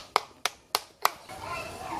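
At a church outreach for children, four sharp, evenly spaced hand claps ring out close by, followed by faint voices and murmuring from the kids.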